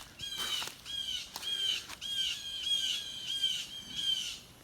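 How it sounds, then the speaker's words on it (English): Blue jays give a run of harsh, repeated squawking calls outdoors in coastal woodland at Sabine Woods, about seven rough cries spaced steadily and fairly close, with no talking over them. "Well, the blue jays like it out here."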